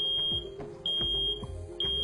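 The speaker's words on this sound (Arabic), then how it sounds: "فيطلق جرس الإنذار" A smoke detector alarm sounds with sharp, high repeating beeps at regular intervals, faint and slightly distant over low background rumble.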